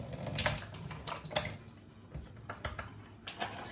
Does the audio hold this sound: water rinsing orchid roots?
yes